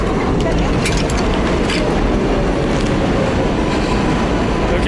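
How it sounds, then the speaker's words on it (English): Elevated subway train rumbling overhead on a street in Jackson Heights, a loud continuous roar with faint clatter throughout, close and steady. "Okay, we have a Subway up above."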